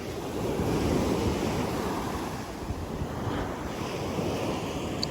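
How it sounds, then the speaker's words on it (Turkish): Sea waves wash onto an empty beach near Silifke in cold weather, a steady surf roar with strong wind buffeting the microphone. "O kadar ki kışı anımsattı yani şu dalgalar."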